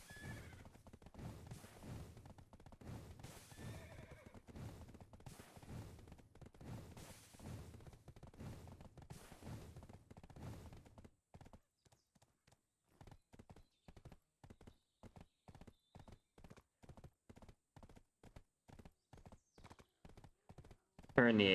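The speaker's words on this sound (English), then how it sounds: "The horse just knows where to go." A horse gallops in Black Desert Online with fast, rhythmic clip-clop hoofbeats that run steadily, pause briefly, then resume at a quieter, sparser pace, with a short whinny-like sound near the end.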